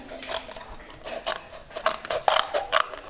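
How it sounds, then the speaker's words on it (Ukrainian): Scissors cut slits into a paper cup during a children's craft workshop, a series of close, crisp snipping crunches arriving in irregular bursts. "Давайте візьмемо ножиці і зробимо чотири"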